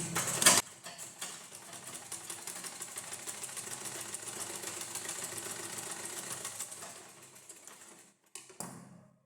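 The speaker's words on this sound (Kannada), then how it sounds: "ನೋಡಿ ನಾನು ಸ್ಟಿಚ್ ಮಾಡ್ತೀನಿ." Sewing machine stitching thin blouse fabric, a steady whirring run of rapid needle strokes lasting several seconds, then slowing and stopping, with a short burst again near the end.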